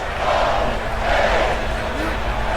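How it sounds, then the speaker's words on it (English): A wrestling arena crowd in the WWE 2K video game chants during a match, a dense, steady roar of many voices with a commentator talking over it. "not taking lightly to the crowd chants of HOH"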